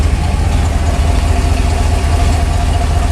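A Chevy Silverado 3500 pickup with a brand new muffler idles with a steady, loud, low rumble throughout, no voices present.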